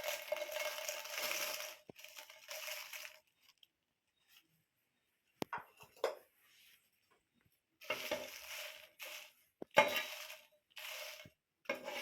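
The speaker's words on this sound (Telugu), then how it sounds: "ఎండుమిర్చి వేయించుకుందాం." Dried red chillies fry in a pan for a garlic chilli powder, with bursts of crackling sizzle and stirring scrapes broken by quiet gaps, close and fairly soft.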